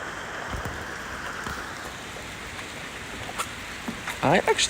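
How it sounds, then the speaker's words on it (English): Moderate to heavy rain falls during a Boston thundershower, a dense, steady hiss that fills the whole clip, with a few sharper patters standing out near the end. "I would say now the rain is moderate to heavy"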